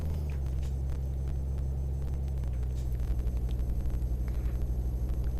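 A Peterbilt 389 truck engine drones low and steady while cruising in Euro Truck Simulator 2, a heavy continuous rumble with a faint pulsing throb building in the second half, no voices over it.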